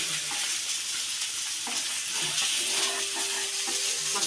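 Pieces of bangda mackerel fry in a pan and get turned over one at a time. A steady, loud sizzle of hot oil runs the whole way through, with soft scraping and light clatter as the fish are flipped.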